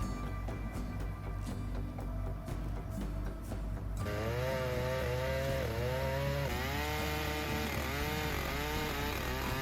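A chainsaw engine felling trees drones loudly and continuously, its pitch rising and falling as it revs up and eases off.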